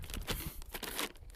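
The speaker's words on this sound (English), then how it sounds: "This is just a little plastic bag." A small plastic bag crinkled and rustled by hand close up, continuous crackling with several louder bursts over a second or so.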